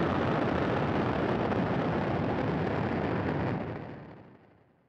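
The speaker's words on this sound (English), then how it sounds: "And lift off of Starlink 669. Go Falcon, go Starlink." A SpaceX Falcon 9 carrying Starlink Group 6-69 lifting off, a broad continuous crackling roar that holds steady and loud, then fades away toward the end.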